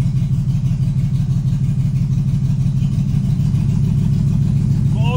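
A BMW E36 sedan with a swapped M50 engine and no exhaust idles close by, a loud, raw, continuous rumble with a slightly uneven pulse throughout.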